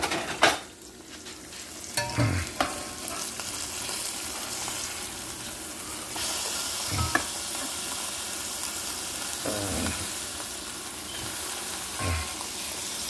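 Hamburger patties, some topped with cheese slices, sizzle and fry in a pan, a steady crackling hiss broken by several sharp scraping or clattering bursts from a utensil.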